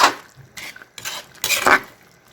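Metal utensil scraping and clanking against a pan while stirring chicken adobo with a little sesame oil, in short irregular bursts with no voice.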